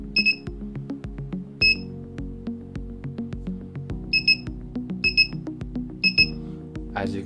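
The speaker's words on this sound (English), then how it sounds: "it will detect it and beep" An Arduino ultrasonic sensor buzzer sounds short electronic beeps in several separate bursts over a steady musical background, each a quick high-pitched double chirp.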